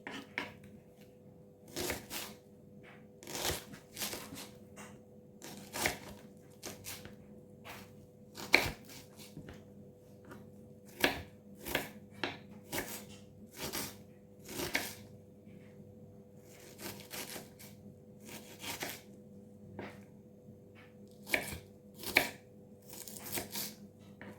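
Quiet, close knife cuts through leek and potatoes on a cutting board, soft irregular taps and slices repeating steadily over a low background hum.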